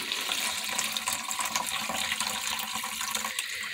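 Fermented chicken feed liquid is poured through a metal strainer into a pitcher, giving a steady, dense rushing and splashing trickle that runs continuously throughout without any talking.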